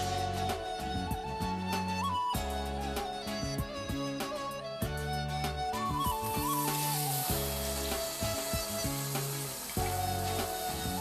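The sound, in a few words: pork shoulder searing in a pan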